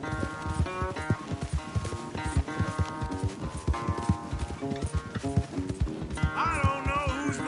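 Horses gallop in a race in Red Dead Redemption 2, rapid thudding hoofbeats pounding close and loud throughout, with snorts and a whinny rising near the end, over a faint murmur of voices.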